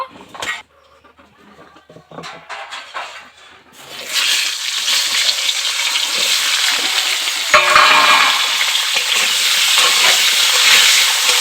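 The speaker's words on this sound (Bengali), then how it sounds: "পুঁই শাকের ডাঁটাগুলোকে একটু ভেজে নেব।" Malabar spinach (pui shak) stalks frying in a pan: quiet clinks and stirring at first, then a loud, steady hiss of oil sizzling close by that continues to the end, with no talk.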